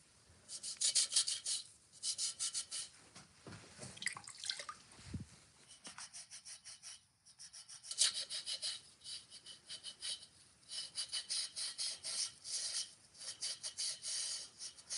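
A sponge or cloth rubs glaze off the rim of a cone 6 pottery piece, making faint, steady scrubbing and rasping strokes in repeated bursts with short pauses between them.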